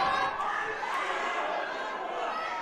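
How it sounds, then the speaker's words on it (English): A video game wrestling arena crowd roars and cheers in a dense, steady wash of many voices, moderately loud and continuous with no distinct words standing out. "The crowd's starting to get behind Slammer again."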